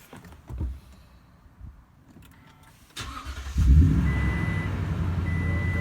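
A 2021 Toyota Tundra pickup's starter cranks briefly and the engine catches, settling into a loud, steady rumbling idle after a few quieter clicks and thumps.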